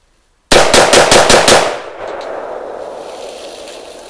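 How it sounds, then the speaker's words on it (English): A Sig M4 rifle fires six rapid, evenly spaced, loud cracks up close, then the reverberation of the shots rings out and fades. "he's going to pop off 6 rounds pretty quick"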